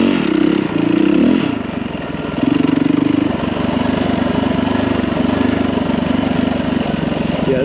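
Hard enduro motorcycle ridden along a rough single track trail, its engine droning loudly and steadily with shifting revs, close up, with clattering and scraping over the terrain.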